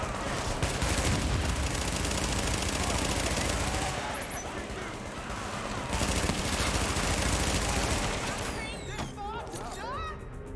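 Sustained automatic gunfire from the video game The Division, dense and continuous bursts with brief lulls, loud and close throughout, with some game effects near the end.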